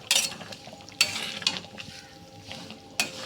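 Potatoes and cauliflower sizzle with spice paste in a pan, and a spatula scrapes through them in a few sharp, separate strokes over a soft, steady frying hiss.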